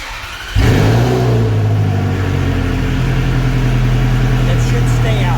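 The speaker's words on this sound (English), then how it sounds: "I'm going to start the car" A Ferrari 360 cranks and fires up, a sudden loud engine catch that settles into a steady, rumbling idle up close, with a voice talking over it.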